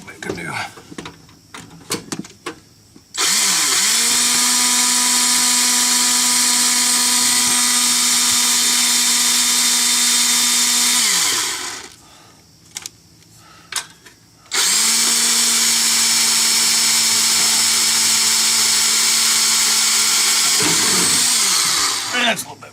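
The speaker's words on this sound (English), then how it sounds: "let's see what this drill bit can do" A loud, high-pitched drill whines through metal in two long sustained runs, with a short pause and handling noise between them.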